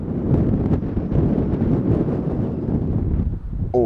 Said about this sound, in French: le petit vent froid qui vient me caresser